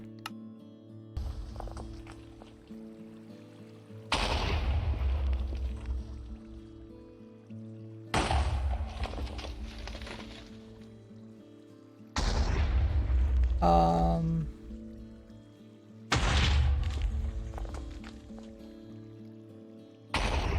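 Minecraft explosions go off one after another in a game, with five loud booming bursts at regular intervals and quieter game sounds between them, no talk.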